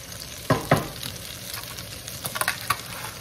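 Meat and onions sautéing in a pan for Bicol express, with a continuous sizzle broken by a pair of loud scraping stirs early on and lighter clinks and scrapes later.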